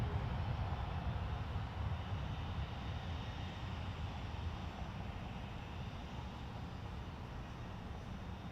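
A British Airways A350-1000 airliner comes in to land at Toronto Pearson Airport, a low, steady engine roar heard from a distance that fades slowly.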